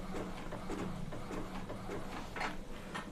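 An Epson L18050 inkjet printer runs a nozzle check, giving a steady mechanical whir with soft rhythmic ticks and a few brief louder passes of the print carriage, close by with no talking.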